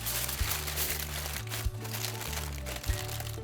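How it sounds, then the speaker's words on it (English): Sturdy foil is crinkled and pressed around a Korean pork crown roast already covered with parchment, a close, continuous crackling rustle with a few sharper crunches along the way. "Now some sturdy foil. We want to seal it up pretty well."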